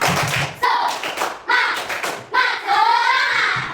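A school class claps in a quick rhythmic pattern, bursts of hand claps separated by short pauses, with voices chanting along at close range.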